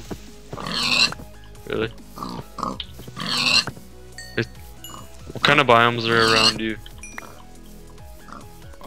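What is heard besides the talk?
pigs oinking while being killed in the video game Minecraft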